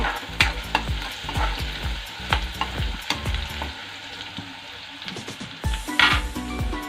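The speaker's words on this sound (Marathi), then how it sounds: "आता आपण लसूण अद्रकची पेस्ट टाकूया. थोडा वेळ आपण हे करून घ्यायचे." Garlic-ginger paste frying with browned onion in a pan, a steady sizzle under repeated close scraping stirs of a utensil against the pan.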